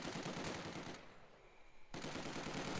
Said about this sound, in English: the Maxim returns fire on the sniper, doing a lot of damage there